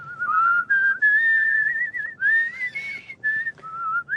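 A person whistles a wavering, warbling trill with vibrato, in short bursts separated by brief pauses, close and clear.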